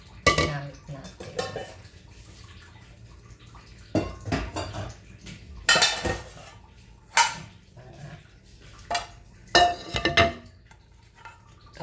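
Used pots and a frying pan being stacked, a series of separate metallic clanks and clatters spaced apart, close by in a quiet kitchen.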